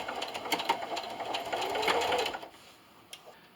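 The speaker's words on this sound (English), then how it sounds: "I'm just going to sew all the way across, about a 1/2 inch away from my side." A sewing machine stitches across a cornhole bag filled with beans, a steady close whirring run that tapers off near the end, with no talking.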